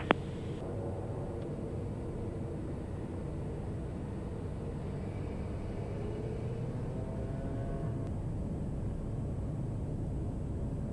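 Cabin of a Piper Meridian turboprop taking off from the runway, a steady loud engine roar and airframe rumble that holds constant throughout.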